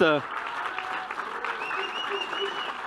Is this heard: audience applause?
yes